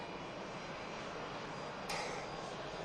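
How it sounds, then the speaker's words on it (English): A KLM Airbus A321neo arriving from Amsterdam Schiphol on final approach at Manchester Airport produces a steady distant engine roar that holds a broad, even rumble throughout. "Next aircraft to arrive, beautiful KLM A321 Neo. Of course, coming in from Amsterdam Schiphol. Aircraft now on its final 2 miles out."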